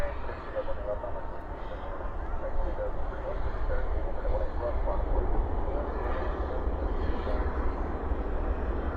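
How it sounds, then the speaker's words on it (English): A jet airliner lands at night at Dallas/Fort Worth airport with spoilers up and thrust reversers deployed, giving a continuous heavy engine roar with deep low rumble, steady and fairly close. "Spoilers up, reversers out."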